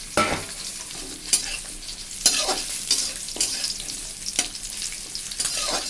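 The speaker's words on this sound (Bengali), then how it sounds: "তারপরে আমি এবার কাজুগুলো ছেড়ে দিলাম" Cashews frying in a generous amount of ghee, a continuous close sizzle broken by regular scraping and stirring strokes of a spoon in the pan, with no talk.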